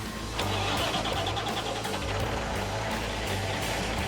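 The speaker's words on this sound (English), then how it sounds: "the truck's running just a little bit sick at the moment" A truck with ongoing mechanical trouble cranks and catches, then settles into a loud, rough, pulsing idle that keeps running steadily for several seconds.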